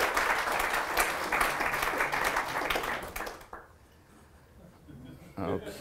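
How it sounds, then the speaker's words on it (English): Audience applause at a lecture, a full round of clapping from a seated crowd that runs strong for about three seconds then cuts off to quiet, followed by brief talk and movement. "So, as we say in Florida, please clap."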